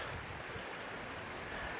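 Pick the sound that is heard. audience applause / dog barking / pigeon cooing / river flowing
river flowing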